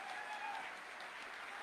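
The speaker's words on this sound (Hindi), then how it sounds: "एक बार जोरदार तालियों के साथ" A crowd at a business summit applauds with a continuous, even wash of clapping heard from a distance, and no voices rise above it.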